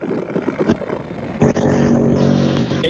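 A Tillotson T4 racing go-kart engine is started: some rough rattling, then at about a second and a half it catches into a loud, close, steady buzzing drone that holds to the end.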